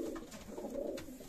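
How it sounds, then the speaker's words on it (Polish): Pigeon cooing close by, a low soft continuous coo from one bird of Belgian racing stock, steady through the moment with no talk. "to jest gołąb podwójny wnuk Angelo"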